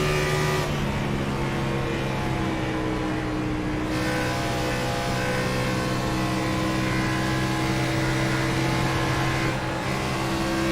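A race car's engine roars steadily at high revs along the straightaway at Homestead, loud and close with a sustained tonal drone that shifts slightly in pitch as the throttle opens, with no talk.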